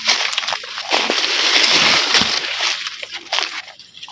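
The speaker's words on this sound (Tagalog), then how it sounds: "Okay, paimno na po ni og tubig." Water sloshes and splashes steadily as a cow on a farm is given water to drink, a continuous close, fairly loud churning with brief splatters and no talk.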